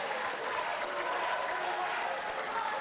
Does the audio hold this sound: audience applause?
yes